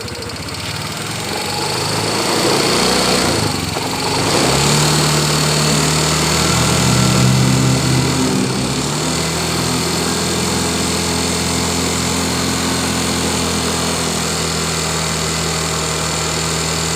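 A hot Yamaha Mio motorcycle engine runs steadily at idle, loud and close, with a small surge in the middle and a continuous buzzing drone.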